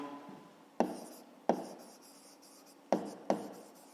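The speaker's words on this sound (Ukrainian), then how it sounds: "пишемо у другому ящику" A pen scratches across paper as figures are written out for a fifth-grade maths exercise: four quick, crisp strokes heard close up and quiet, separated by short pauses.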